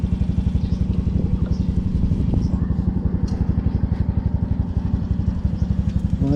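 A Yamaha Mio i 125 scooter engine is running close by with a fast, even putter of rapid firing pulses, a mechanical drone that keeps up steadily, while faint voices come through in the background.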